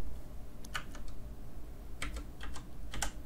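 Quick bursts of keystrokes on a computer keyboard, a few soft, close clicks in two short clusters over a steady low room hum, with no voices.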